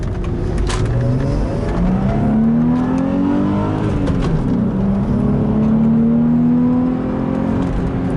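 A 1997 Audi A4 B5 2.8 engine revs and accelerates, its pitch climbing steadily in a loud continuous drone with a brief dip and another rise.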